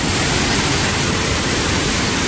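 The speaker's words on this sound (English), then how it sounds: "this waterfall in Bali, but it's more of a spillway." Waterfall spilling through a spillway into a cove in Bali, a steady, loud, broadband rush of falling water with no pauses and no voices.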